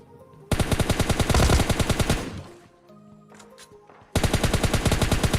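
Gunfire in the mobile game PUBG Mobile comes in two loud bursts of rapid automatic shots, with a brief quieter gap holding a softer tone, and no voices.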